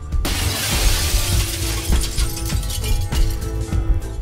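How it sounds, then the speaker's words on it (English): Glass shatters in The Sexy Brutale video game: one loud, close crash followed by a dense spray of tinkling shards and scattered clinks over several seconds, with no voices. "That breaking glass sound we hear every day is whatever's in there getting out."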